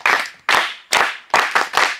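A small group claps in a classroom session, five or six sharp bursts spaced about half a second apart and then quickening, close and loud, with no talking.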